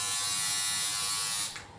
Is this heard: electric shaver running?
yes